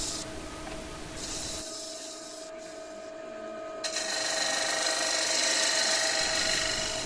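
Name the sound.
wood lathe turning diffuser with 3/8 spindle gouge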